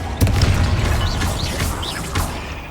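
Confringo blasting spell in Hogwarts Legacy, cast inside a tomb: a heavy booming explosion with crashing debris and whooshes, sustained rumble and a second impact near the end.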